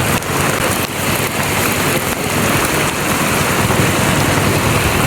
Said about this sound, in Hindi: बरसाति शुरू तेज़ थी चुकी आहे